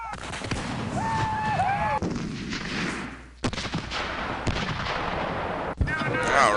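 Artillery cannons firing in the Civil War strategy video game Civil War Generals 2, heavy booming blasts in repeated bursts with a brief lull midway, loud and close, mixed with musical tones and faint voice.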